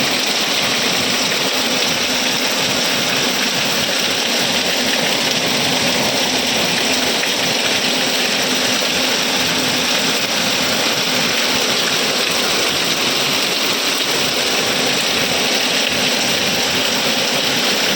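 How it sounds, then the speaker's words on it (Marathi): Heavy, steady rain pours without pause, a dense broadband hiss of drops that stays loud throughout with no voices. "आता सुरू झाला पाऊस."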